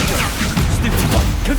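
Explosive spell blasts from Hogwarts Legacy burst in quick succession, a few booming hits and whooshes packed into a short, loud, cluttered stretch.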